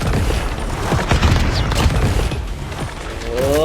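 Gunfire in the Call of Duty Mobile video game, a dense run of sharp shots and mechanical clatter, loud and continuous with a few heavier bursts partway through.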